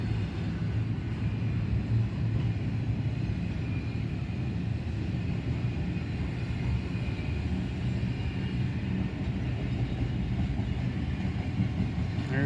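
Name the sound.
intermodal freight train passing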